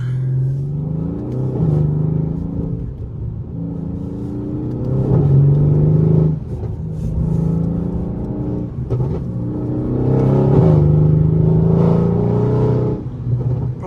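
Weistec-tuned Mercedes C63 AMG V8 revving loudly from inside the cabin, a deep sustained engine roar rising and falling in pitch through several throttle blips over fourteen seconds.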